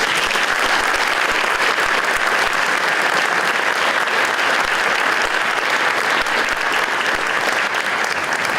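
An audience at a high school scholarship night claps steadily for the scholarship recipients, a dense, even applause that holds at full strength throughout without a break.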